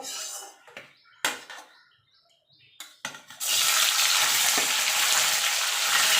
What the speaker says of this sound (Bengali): দেখুন তেলটা গরম হয়ে গেছে এবার আমি পনিরগুলো একটুখানি হালকা করে ভেজে নেব